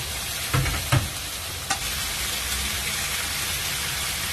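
Pork and tomato frying in a pan give a steady, close sizzle with a few brief stirring knocks near the start, and no voices over it.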